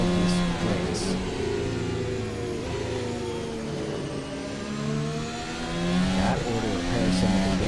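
F1 race cars in the Assetto Corsa racing game during the Helsinki GP, engines whining and revving as they pass, with rising and falling pitch sweeps and several cars sounding at once, with no voices.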